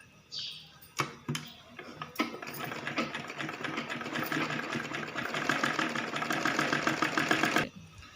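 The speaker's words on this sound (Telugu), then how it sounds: "ఇటు సైడ్లో ఈ విధంగా డబల్ ఫోల్డ్ అనేది ఈ విధంగా వేసుకొని స్టిచ్ చేసుకోవాలి" A sewing machine stitches a double-folded cloth edge for a shopping bag, running in a steady rapid whir for several seconds after a few short starts and clicks, close and fairly loud with no talking.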